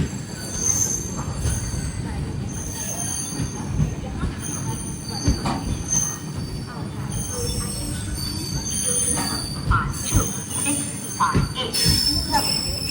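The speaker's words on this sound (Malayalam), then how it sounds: "ട്രെയിൻ ഇപ്പോൾ ബത്കൽ സ്റ്റേഷനിലേക്ക് എത്തി" The Mangala Lakshadweep Express pulls into Bhatkal station with a broad rumble of rolling wheels, high metallic squeals and scattered clanks, heard close and continuous.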